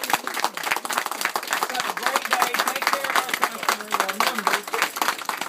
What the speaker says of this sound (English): Everybody get some hands clapping here